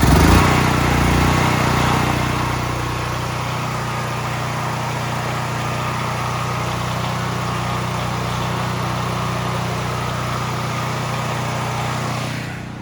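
A Predator 9000 generator runs steadily and loudly close by, with a constant broadband engine drone and a firm low hum that holds from start to finish with no talking over it.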